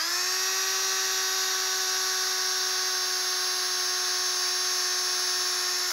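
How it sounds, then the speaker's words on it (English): A steady, high-pitched electric drill whine driving a screw into a snug fit during kayak crate assembly, running continuously without pause, holding one even tone from start to finish with no voices. "Sometimes I got to get the drill out, and I probably will with this one, and run the screw through"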